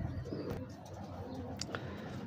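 Breeder pigeons, including one with slate-grey feathers, kept for sale in Lahore, coo softly and faintly over a low, steady background hum, with no one speaking.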